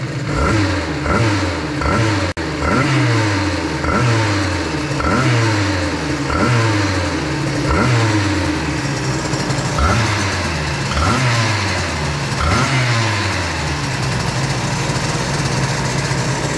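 A small two-stroke 2Fast 70 engine with a Boost crankcase, being run in, revs up and down again and again in a steady, rhythmic cycle, close by and loud, with no one talking.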